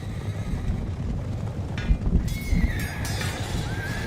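Horses whinny a few times over a steady rumbling roar of battle, with a faint thud of movement amid the noise.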